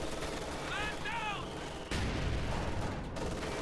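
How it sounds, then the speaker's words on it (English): Distant booming gunfire and artillery-like blasts from Company of Heroes 2 mortar fire over a steady battle din, with a sharp louder impact partway through and brief tonal chirps early on. "the mortar's slowly taking out members"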